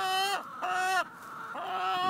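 Hens in a chicken coop give drawn-out, rising clucks and squawks, three or four close, loud calls in quick succession with no talking.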